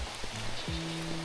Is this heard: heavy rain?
yes